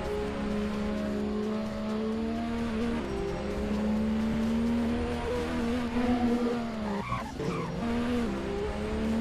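Car drifting in Roblox Driving Empire, a steady engine drone with a sustained tire skid squeal and a brief scrabbling burst near the end, no talking.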